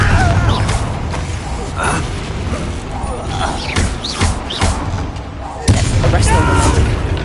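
Confringo explosive spells going off during a Hogwarts Legacy fight, with repeated heavy booming blasts and crackling bursts over constant battle noise, while character voices speak throughout.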